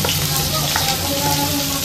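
Potato, pumpkin and eggplant frying in a pan as they are stirred, a continuous loud sizzle with faint scraping of the utensil, no talk.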